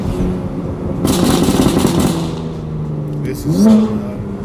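A car engine revving loudly, with a burst of exhaust roar followed by a steady drone and another rising rev near the end, close and powerful.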